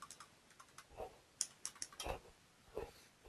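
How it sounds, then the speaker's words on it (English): Keys on a computer keyboard are tapped in short irregular bursts of quiet clicks, close by and faint, with no talking over them. "So what we're going to do is type the social security number"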